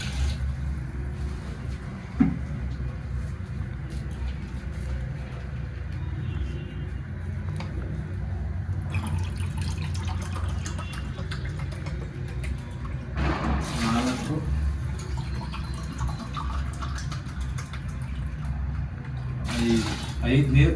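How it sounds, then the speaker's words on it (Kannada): Water poured glass by glass into a cooking pot of rice for a bachelor-style chicken biryani, splashing in short bursts while a voice talks and counts over it. "ನಾನೀಗೊಟ್ಟು 5 ಲೋಟ ನೀರು ಹಾಕೊಳ್ತೀನಿ."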